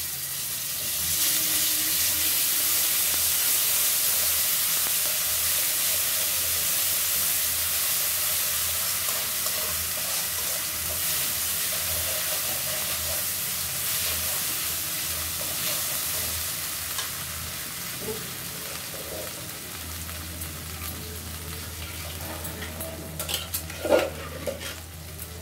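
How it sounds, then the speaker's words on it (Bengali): Ginger paste frying in hot oil with turmeric for a mung dal and rohu fish head dish, a steady broad sizzle with occasional spoon scrapes and stirs against the pan, close and continuous, a brief louder clatter near the end. "আদাটা ভালো করে ভাজা তেলে হয়ে গেছে।"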